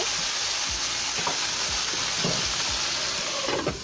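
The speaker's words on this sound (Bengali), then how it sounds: "তাতে একটু পর আমি আবার উল্টিয়ে দেব, নেড়ে চেড়ে দেব, যাতে সবগুলো একসাথে ভাজা হয়ে যায়" Okra and sarputi fish sizzle steadily in a covered pan, a constant frying hiss with scattered soft clicks and scrapes of stirring, close and continuous with no talk.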